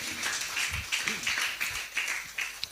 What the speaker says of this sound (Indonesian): Tepuk tangan bagi Bapak Yahweh.